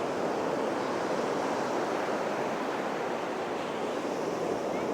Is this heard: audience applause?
no